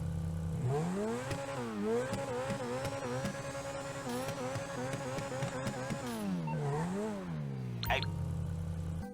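A Grotti Turismo R sports car engine revs up and down repeatedly in GTA Online, the pitch climbing and falling in smooth sweeps, loud and continuous, with a brief swoosh near the end.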